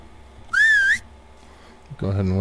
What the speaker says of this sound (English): Go ahead and whistle for our horse